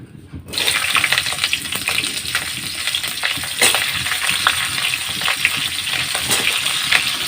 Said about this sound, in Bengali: আমার তেল গরম হয়ে গেছে, এবার আমি সবজিগুলো একটু ভেজে নেব। প্রথমে আমি ফুলকপি দিচ্ছি